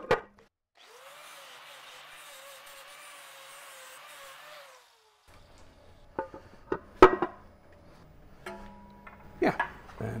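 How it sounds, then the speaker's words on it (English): High-pitched whining die grinder clearancing metal on a Toyota MR2 SW20 during a 2GR-FE engine and transmission install, a steady close run of about four seconds that winds down, followed by scattered clanks and knocks. "And that kind of stuff you can do with a die grinder once the transmission's installed."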